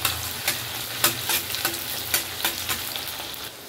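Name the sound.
chopped onion and cumin frying for prawn gravy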